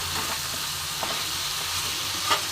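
Onions and crushed black pepper fry in a pan for pepper chicken, a continuous close sizzle with faint stirring movements and one small clack near the end, with no voices.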